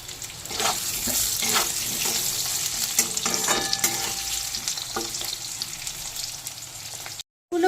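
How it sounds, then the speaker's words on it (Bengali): Cut potatoes fry in hot oil with black cumin, a steady loud sizzle with scraping stir strokes at intervals, ending in a brief silence. "দিয়ে দিলাম টুকরো করে কেটে রাখা আলু নুন দিয়ে আলু হালকা লাল করে ভেজে নেব"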